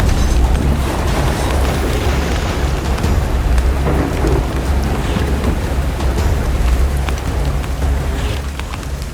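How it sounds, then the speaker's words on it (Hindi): Heavy, unbroken rain pours down with low rolling thunder rumbling underneath, a dense, loud wash of noise throughout with no voices. "बारिश ने रुकने का नाम नहीं लिया।"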